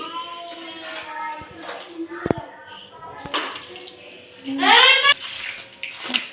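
Water splashes and runs briefly over a gas stove, with a person talking nearby before and during the rinse.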